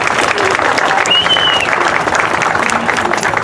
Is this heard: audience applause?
yes